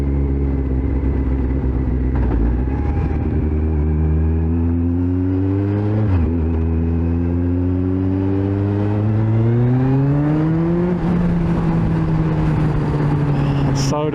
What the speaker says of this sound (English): It's so damn fast, this bike.